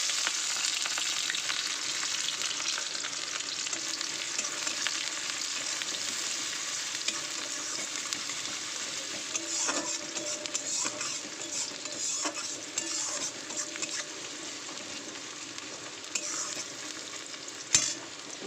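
Chopped onions and whole garam masala fry in hot oil, a steady bright sizzle held throughout with occasional pops and spatters and stirring scrapes near the end, no voices.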